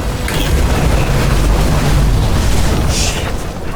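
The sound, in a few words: fuses blowing in the video game Nobody Wants to Die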